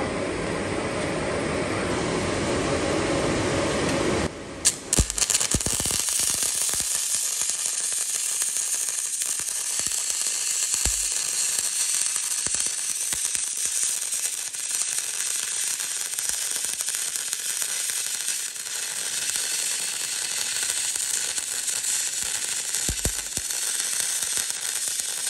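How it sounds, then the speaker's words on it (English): Electric welding on the lower section of a car body during a taxi restoration, a steady crackling sizzle that runs continuously for over twenty seconds after a short louder burst, close and loud, with no talking. "One more bit to weld on this bottom bit"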